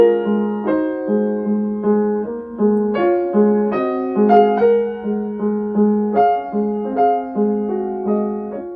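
Grand piano played without the una corda pedal: a slow passage with a steady repeated note under a melody, brighter and more present, with clear ringing overtones on each chord.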